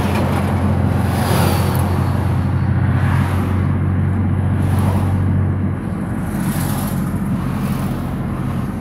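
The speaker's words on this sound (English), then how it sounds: "A lot of traffic for big town." Continuous road traffic rolls along the main street of Quartzsite, Arizona: a loud, steady roar of cars and heavier vehicles passing close by, with no voices.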